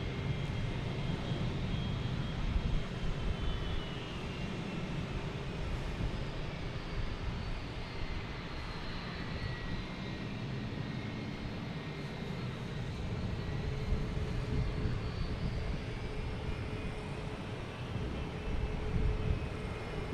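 Boeing 737-900 jet airliner at Boston Logan Airport, a steady broadband engine roar with a high whine, sustained and fairly close for the whole stretch, no voices.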